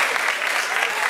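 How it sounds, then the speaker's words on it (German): Brief burst of audience applause at a church music event, dense steady clapping from a crowd, moderately loud and unbroken. "Applaus natürlich."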